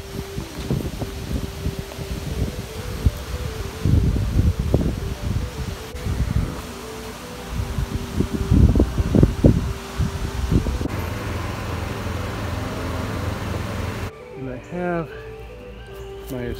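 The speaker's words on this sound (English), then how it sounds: "The wind really kicked up" Strong outdoor wind gusts and buffets the microphone in low, rumbling bursts that rise and fall, while people talk nearby over the noise.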